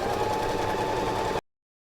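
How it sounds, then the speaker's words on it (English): A sewing machine stitches a skirt waistband at a steady, continuous hum close up, running alone for over a second before cutting off abruptly. "I'm just going to be sewing at 3/8 of an inch to tie that to sew that waistband on"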